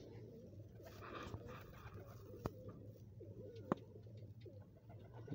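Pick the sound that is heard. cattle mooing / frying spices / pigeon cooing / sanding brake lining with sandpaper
pigeon cooing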